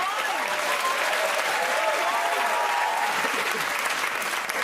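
Steady studio audience applause on a comedy game show, a thick continuous patter of many hands clapping at even volume.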